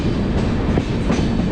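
A passenger train runs through Jalandhar City station without stopping, its steady rumble and faint clickety-clack of wheels on rails continuous and close, with no voices.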